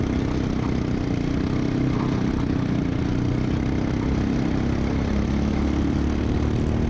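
A small LO206 kart engine drones steadily through a kart race, a continuous broadband buzz held at full throttle and close by throughout, with no talk.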